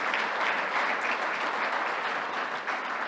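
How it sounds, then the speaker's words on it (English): An audience applauds for Belfast at a speech on the Good Friday Agreement, a dense, steady burst of clapping from many hands that holds evenly for about three seconds with no voices over it. "Give a round of applause for Belfast pulling through all that."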